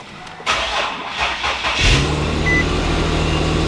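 An Infiniti G37X with an upgraded Level 10 transmission and ISR high-flow cats starts up and then idles steadily in park, its engine loud and close with a low, even rumble.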